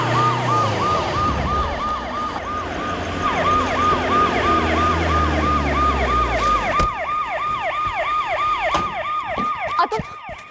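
An ambulance siren wails loud and close in a rapid, repeating rising-and-falling pattern that continues throughout, with road traffic rumbling beneath and a few sharp knocks near the end.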